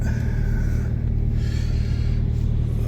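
A car starting out on a snowy road in Europe gives a steady, close, low engine rumble that holds evenly throughout, with no voices.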